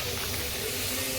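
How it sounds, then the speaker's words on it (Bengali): Luchi frying in hot oil gives a steady, even sizzling hiss close by, continuous and without pauses, with no talk over it. "এই যে গরম গরম লুচি ভাজা হচ্ছে"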